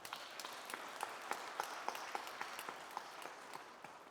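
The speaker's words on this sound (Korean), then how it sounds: "위대한 대구 시민 모두를 위해서 우리 박수 한번 보내주시기 바랍니다" Audience applause for the citizens of Daegu at a commemorative ceremony, a steady distant patter of many hands with a few sharper claps standing out, sustained throughout.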